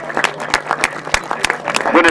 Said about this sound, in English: one more clap for the Welsh Wizards